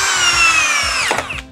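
A Milwaukee hammer drill in drill mode, speed 2, drives a 4 inch GRK screw into wood with a loud, steady high whine that drops in pitch near the end as the screw seats, then cuts off.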